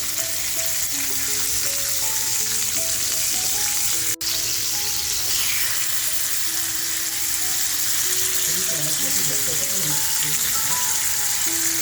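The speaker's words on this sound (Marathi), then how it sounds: "आता बघा हा मच्छी आपल्याला फ्राय करायला टाकायची" Prawn-stuffed squid frying in a pan gives a loud, continuous sizzle and crackle, steady from start to finish with one brief break near the middle.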